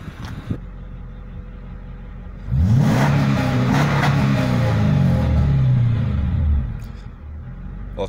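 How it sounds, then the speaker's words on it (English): A Mercedes-Benz E55 AMG W210 engine idles, then revs up and holds through an aftermarket exhaust with no catalytic converters, resonators or silencers, a loud, deep, rising and falling roar before settling back to idle. "Aftermarket exhaust sounded very nice."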